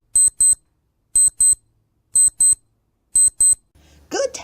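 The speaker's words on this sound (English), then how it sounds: "the watch let out a tiny chime." Large silver pocket watch giving a tiny chime, heard as four evenly spaced pairs of short, bright metallic rings separated by silence, followed by a brief rustling noise.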